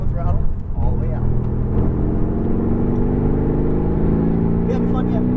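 A Mercedes-AMG GT R on a race track accelerates, its engine note climbing steadily in pitch as revs build, loud and close inside the cabin with a coaching voice over it.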